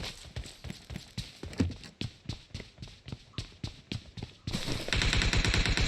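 Rapid gunfire in the mobile battle-royale game PUBG Mobile, with sharp shots rattling in a fast regular rhythm before breaking into a dense, continuous burst near the end, with no talk over it.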